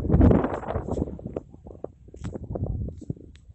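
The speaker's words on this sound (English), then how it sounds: "Sorry about the wind, it's very windy." Gusty wind buffets the microphone in uneven bursts, loudest at the start, with soft rustling and thumps between gusts.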